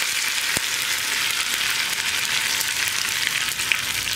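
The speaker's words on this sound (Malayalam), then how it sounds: "ഇനി ഉഴുന്നൊക്കെ ഒന്ന് കളർ ചേഞ്ച് ആയി വരുന്നത് വരെ ഒന്ന് ഇളക്കി കൊടുക്കുക." Urad dal and curry leaves frying in hot oil for a tempering on coconut chutney, a bright crackling sizzle with a sharp spoon tap near the start and steady stirring, close and loud, with no voices.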